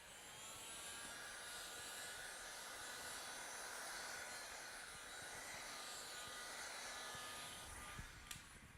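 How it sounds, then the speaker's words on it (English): A heat gun blows steadily while softening vinyl wrap film on a car part, a constant loud airy roar with a faint whine that runs unbroken throughout, ending in a brief click near the end. "As soon as I switch on the heat gun, the vinyl softens up and tensions."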